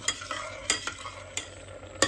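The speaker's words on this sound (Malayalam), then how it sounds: "ഇതൊന്ന് വറ്റണ വരെ ഇളക്കിക്കൊണ്ടിരിക്കുക." A coconut milk Olan curry for Onam being stirred in a pot with a spoon, giving soft scraping strokes and a few sharper clinks against the pot over a faint background simmer, with no talking.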